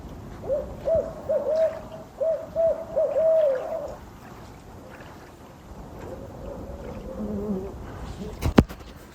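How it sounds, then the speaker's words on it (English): Two owls hoot back and forth from a remote pond in the St. Regis Canoe Wilderness of the Adirondacks, a run of repeated low hoots in quick phrases for several seconds, then a fainter answering call over soft background hum. "2 owls are saying goodbye to me"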